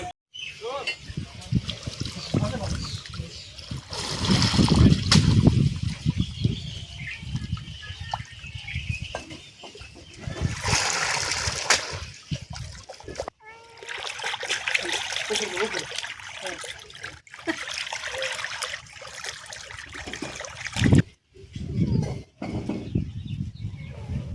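Pieces of hilsa fish being washed in water, with running and splashing water in uneven bursts and pauses, close by, and some faint background sound in between.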